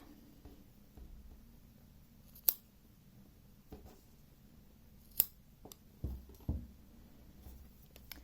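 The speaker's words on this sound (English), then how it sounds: "Great, and now we can snip those off." Scissors snip off crochet yarn ends on a garland, giving a few quiet, sharp cuts spaced apart, with soft handling noises between them in an otherwise quiet room.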